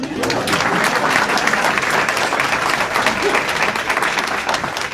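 Full, steady applause from a luncheon audience, loud and continuous across the whole stretch, with a faint murmur of voices mixed in.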